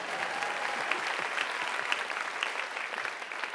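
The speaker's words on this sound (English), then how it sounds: "Yeah, you're supposed to clap." Audience applause at a California conference panel discussion, a continuous patter of many hands clapping at moderate distance, fairly soft and steady throughout.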